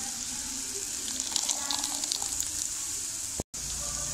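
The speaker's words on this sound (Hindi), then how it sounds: "दो गिलास पानी के डाल देंगे" Two glasses of water poured into a pan of minced meat with onion and ginger-garlic-chili paste, giving a continuous gushing splash with faint sizzling, then a brief cut of silence before it continues.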